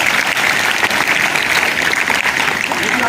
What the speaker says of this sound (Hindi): वह इनके लिए जोरदार तालियां।